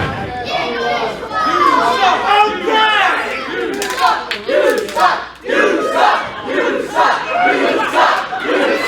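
Wrestling crowd at a Frontier Wrestling Destiny show, a loud arena mass of voices chanting and shouting in rhythmic swells, with scattered claps and cheers throughout.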